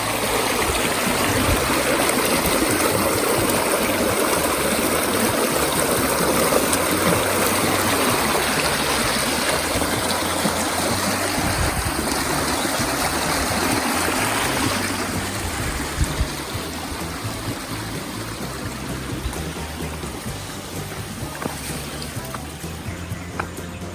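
Clear stream water flows steadily at Mahabaleshwar, a dense, continuous rushing close by that turns slightly quieter partway through, with no talking.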